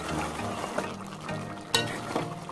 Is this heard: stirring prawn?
yes